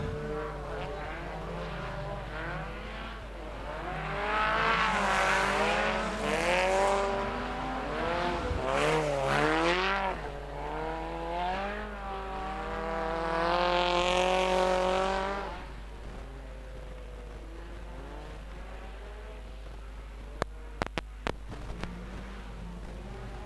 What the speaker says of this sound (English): just impossible to control those front wheel drives with those narrow tires on this wet